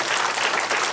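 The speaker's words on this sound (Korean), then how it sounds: "다시 한번 박수 한번 주시죠" Audience applause at a televised Korean education-reform talk show, a dense, loud wash of clapping filling the short moment without a break.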